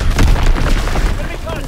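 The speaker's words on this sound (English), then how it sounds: "Enemy bomb incoming." A heavy bomb blast in a WW2 video game, a deep booming impact at the start that rumbles on under busy battlefield noise, with voices talking over it.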